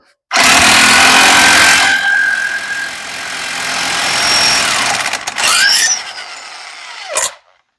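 Electric impact wrench rattling loudly as it breaks loose and spins off a car axle nut, a continuous harsh hammering burst of several seconds that eases, surges again, then cuts off abruptly.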